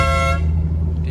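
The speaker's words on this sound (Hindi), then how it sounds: "हॉर्न का साउंड चेक कराना ज़रा एक दफ़ा रोड पे बजा के" A car horn sounds on the road, one loud close honk whose bright tone stops partway through, leaving the low rumble of the engine idling underneath.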